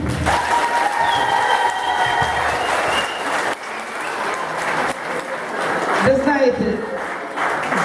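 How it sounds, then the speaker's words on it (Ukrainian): Villagers at a Yablunivka village day celebration applaud the children, a long, loud round of clapping that dips midway, with people talking over it. "Прошу аплодувати їм."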